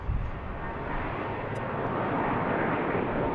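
An airliner passing at BWI airport, a steady broad engine roar heard from a distance, continuous and fairly even throughout, with no voices.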